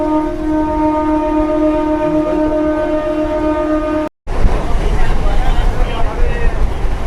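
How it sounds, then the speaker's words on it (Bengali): The new Katwa–Barddhaman local train runs through green countryside past paddy fields in West Bengal, first a steady humming drone with tonal whine, then after a brief break a louder rushing, rattling roar of the moving train. "ছুটে চলেছে কাটোয়া বর্ধমান লোকাল"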